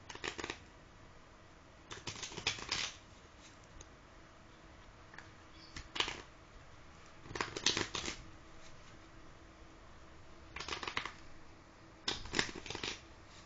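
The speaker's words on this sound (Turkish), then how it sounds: "Şimdi kağıdımızı bir karıştıralım." A deck of playing cards being shuffled by hand for a card trick, several short crisp riffling bursts spaced a couple of seconds apart, close and clear over a quiet background.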